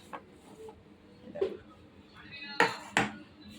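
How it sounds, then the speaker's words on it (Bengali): A wok (kadai) set down on a home gas stove while preparing a vegetarian meal, heard as two sharp metallic clanks close together near the end, preceded by softer kitchen clatter. "কড়াটা বসিয়ে দিয়েছি"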